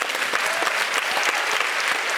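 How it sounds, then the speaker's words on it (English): Audience applause welcoming a guest at a racial justice event, steady dense clapping throughout, loud and close, filling the room without a break. "You can applaud."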